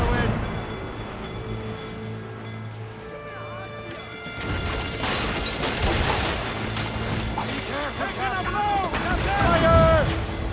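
Ship cannons firing during a naval battle among icebergs in the video game Assassin's Creed Rogue, heavy booming blasts and crashing impacts rolling over a noisy sea soundscape, with shouted voices mixed in.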